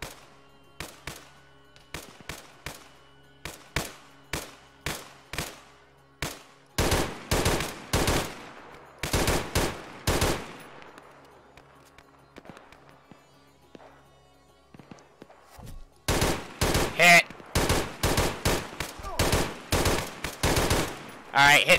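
Gunfire from weapons in the Arma 3 video game, starting as sparse single shots, then dense loud automatic bursts, a short lull and a final rapid burst, all close and sharp with no talk.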